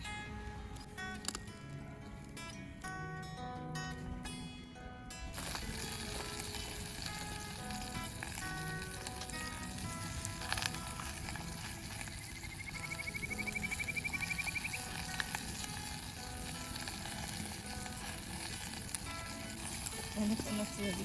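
Zucchini sizzles steadily over a riverside campfire, a continuous crackling fry with a faint tonal whine partway through, while people talk nearby.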